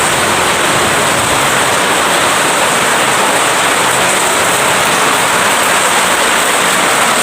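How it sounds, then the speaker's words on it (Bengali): Heavy rain pouring down outside a home, a loud dense unbroken roar of broadband hiss that stays constant throughout, with no voices. "খুব জোরে বৃষ্টি হচ্ছে"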